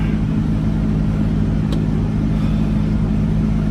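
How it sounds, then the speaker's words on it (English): A car engine drives away, a loud steady low rumble holding throughout with no change in level. "I'm just moving my car again."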